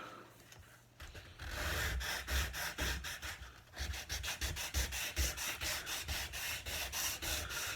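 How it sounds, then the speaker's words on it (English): Hand sanding on a wooden dining table, rhythmic back-and-forth rasping strokes close up, a quiet pause first, then steady repeated scrubbing passes. "I'm not wanting to sand this down to a finish at the moment. It's just get it a little smoother."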